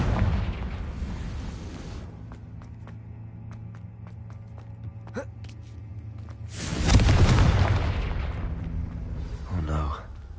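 A Confringo fire spell bursting in Hogwarts Legacy, a loud whooshing blast that swells and fades after about three seconds, followed by a shorter burst, over quieter game ambience.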